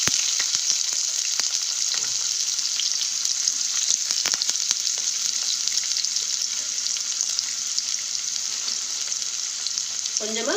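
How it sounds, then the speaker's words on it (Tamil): Chopped onion fries in hot oil with mustard seeds for beans poriyal, a steady close sizzle with scattered small pops and crackles running continuously. "இப்போ வெங்காயம் கட் பண்ணி வச்சிருக்கேன், அதை இது கூட சேர்த்துக்கலாம்."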